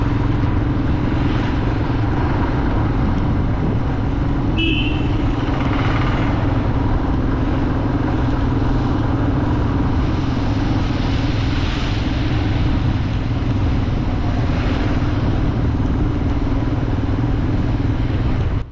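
A vehicle drives along the Kalasa road in Chikmagaluru toward Bangalore, making a loud, continuous engine and road drone with wind rush that stays steady throughout.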